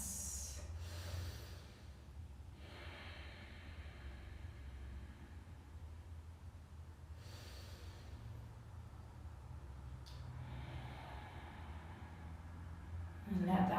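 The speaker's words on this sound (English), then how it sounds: "Take another 2 more breaths." Slow, deep yoga breathing during a family yoga session, with a few soft, airy inhales and exhales spaced several seconds apart over a quiet, hissy background.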